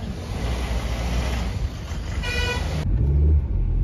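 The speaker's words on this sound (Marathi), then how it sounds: "ट्रॅफिक अशी लागली जशी साऊथच्या पिक्चर आणि गाड्या कशा जातात तशी इथं ट्रॅफिक लागतं." Dense road traffic in a jam near the parking area of the Bhimashankar temple, with steady engine rumble and a loud, sustained car horn blast sounding close by near the end.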